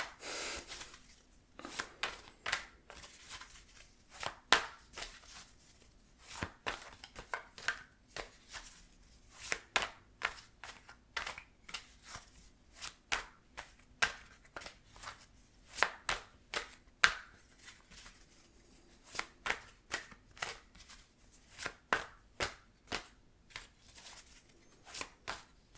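Tarot cards are shuffled close up in a quiet room, a long series of crisp riffling bursts arriving in irregular clusters with short pauses between them.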